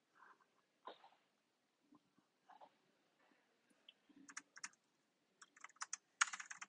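Quiet, sparse keystrokes on a computer keyboard as code is typed, coming in irregular short clusters with gaps, growing denser and clickier toward the end.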